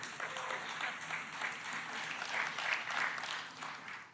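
Audience applause at a political event on First Nations issues, a steady broad patter of many hands clapping that holds evenly for about four seconds at moderate distance, with no one speaking over it.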